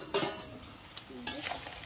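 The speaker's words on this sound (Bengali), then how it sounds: "তরকারিটা আলগা করে দেখে নেব।" A spoon stirs crab curry in a pot, river crabs simmering in a thick spiced gravy, giving a few scraping, clattering strokes against the pot with soft sizzling between them, close and fairly quiet with no talk.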